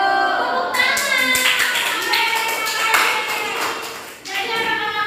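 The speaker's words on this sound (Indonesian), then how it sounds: "Tepuk tangan." Children in a classroom clap their hands together in a brief, loud, fairly rhythmic burst, with a few separate claps standing out and voices heard alongside.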